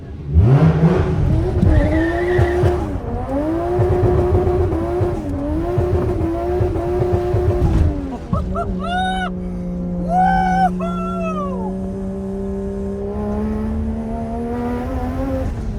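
A loud, aggressive modified Toyota JZX100 Chaser engine revs hard several times, rising and falling, then settles into a high, steady whine as it idles down.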